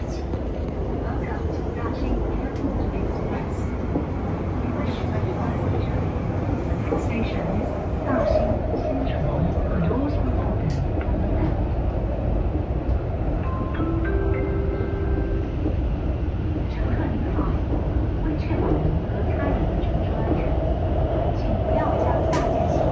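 An express train in China runs with a continuous rolling rumble and rattle for the whole stretch, occasional higher tonal whines rising above it and voices murmuring underneath.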